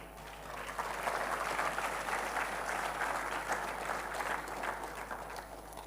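Steady, sustained applause from a crowd at a diocesan youth gathering in Daltonganj, a dense wash of hand claps at even loudness that holds throughout with no speech over it.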